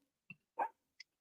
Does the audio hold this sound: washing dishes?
no